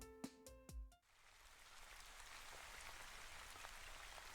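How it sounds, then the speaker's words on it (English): A steady, soft rain background on an art stream follows a few brief tonal notes. The rain is an even, hissing wash of drops that holds alone at a low level. "We have our little rain background."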